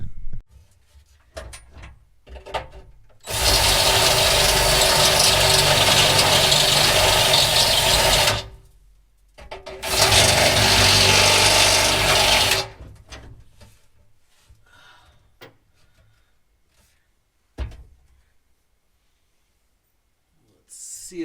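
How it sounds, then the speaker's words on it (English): A step drill enlarges holes in a race car's harness mounting points, two sustained grinding bursts of several seconds each, loud and close, separated by a short pause, with quiet shop noises around them. "I have to use this step drill to make these holes bigger"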